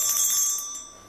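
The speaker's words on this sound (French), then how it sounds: "C'est ma sonnerie de cellulaire." A cell phone ringtone plays a bright, high electronic chime in quick repeating bursts, close and clear, fading slightly at the end.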